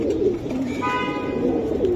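Giribaz pigeons coo nearby in a steady low rolling murmur, with a brief thin tonal toot rising in the middle.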